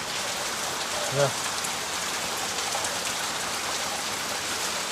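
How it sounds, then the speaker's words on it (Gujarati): Steady rain hisses evenly throughout, with a brief voice heard once early on. "પાછો વરસાદ ચાલુ થઈ ગયો છે"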